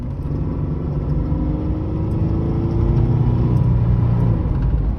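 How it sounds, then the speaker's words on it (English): A 1996 Chevrolet S10 pickup with a pushrod V6 runs at full throttle. Heard from inside the cab, its loud, low droning rumble swells slightly as it pulls, with road whir underneath. "When you floor it and it actually kicks down, it does go pretty well."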